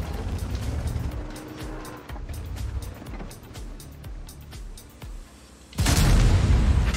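A gunshot in a video game, one loud, sharp blast bursting out near the end after several seconds of rumbling car-like engine noise and other game sounds.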